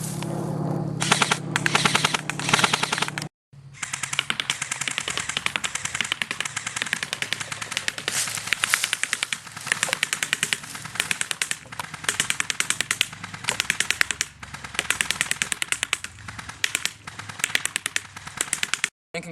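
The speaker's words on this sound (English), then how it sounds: "Fully automatic." G&G Combat Machine CM16 M4A1 airsoft carbine firing on full auto, rapid loud mechanical rattling bursts with one brief pause near the start, then nearly continuous fire.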